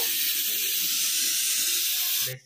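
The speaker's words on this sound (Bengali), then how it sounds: "এই দেখো আমার সিটি পড়ছে" Pressure cooker cooking chicken lets off a loud, steady whistle of escaping steam, a continuous hiss that holds for over two seconds and then cuts off abruptly.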